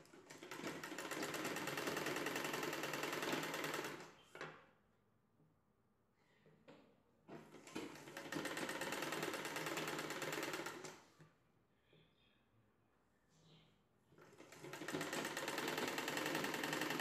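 An electric sewing machine stitching folded cloth for a nighty petticoat runs in three long, loud, steady whirring bursts, separated by quiet pauses with faint handling sounds.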